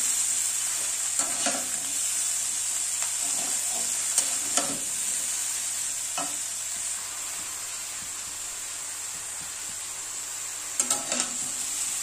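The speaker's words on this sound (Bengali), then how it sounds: "শাকটা ভালো করে কষাই করে নেবো" Pumpkin greens sautéing with salt and turmeric in a pan give a steady, faint sizzle, with occasional soft stirring scrapes and clicks throughout.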